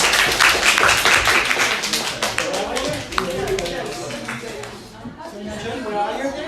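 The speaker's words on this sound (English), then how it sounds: "we should clap now a little bit" Audience clapping at a talk or presentation, a dense patter of hand claps that starts loud and gradually thins out, with chatter and voices mixed in throughout.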